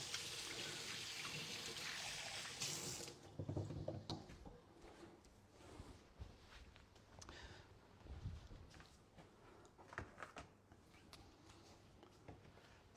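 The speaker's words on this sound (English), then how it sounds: "And I need to wash my hands." A kitchen tap runs with a steady, faint hiss for about three seconds while hands are washed during almond biscuit baking, then gives way to soft, scattered bumps and knocks, with no talking.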